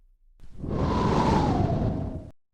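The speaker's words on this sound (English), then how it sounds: "Suddenly, a whistling sound fills the air." A descending whistle of an incoming artillery shell rising out of silence, swelling loud for about two seconds as the pitch slowly drops, then cutting off abruptly.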